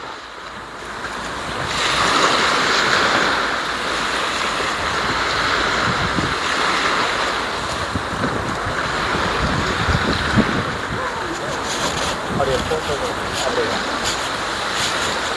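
Sea waves wash steadily onto Palaly beach in northern Sri Lanka, a continuous broadband surf roar with wind buffeting the microphone and people talking nearby.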